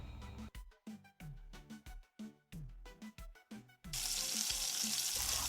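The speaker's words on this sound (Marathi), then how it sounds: "पहिल्यांदा मीडियम आचेवरती पुऱ्या तळायला सुरुवात करायची" Music plays first, then sweet jaggery pumpkin puris drop into hot oil for deep-frying, setting off a sudden loud, dense sizzle that fills the last second and a half.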